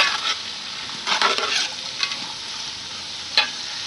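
Stirring chicken curry in a frying pan, with soft scraping strokes and a few louder bursts against a steady sizzle of frying, close by with no talk.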